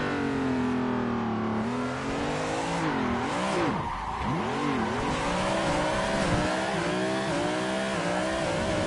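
A drifting car in Assetto Corsa, chasing an RX-7, with a loud, close engine revving up and down in wavering sweeps and tires squealing continuously through the slide.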